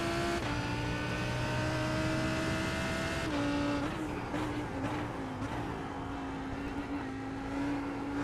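Simulated GT3 race cars at Imola in iRacing, a steady high engine whine with shifting pitch as cars run close together, continuous and fairly loud with no talk.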